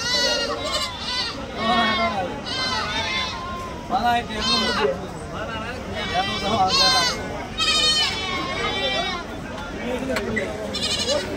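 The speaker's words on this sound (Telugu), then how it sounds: "పిల్లల మేకలు" A crowd of goats and kids at a busy Tuesday livestock market in Kadiri bleat loudly and often over one another, with people talking throughout.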